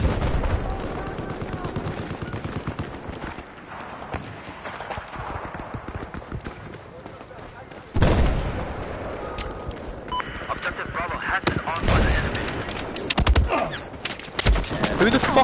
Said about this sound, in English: Who the fuck is firing at me?